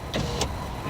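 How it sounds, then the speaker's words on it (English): A car's electric power window being lowered, a brief whirring motor sound with two quick bursts, close and fairly loud, with no talking. "let me put this window down"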